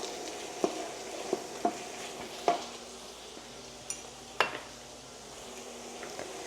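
Bitter gourd (karela) frying in a pan with potatoes, soft sizzle underneath a handful of distinct metallic clinks and scrapes of a utensil against the pan, spaced irregularly, no voices.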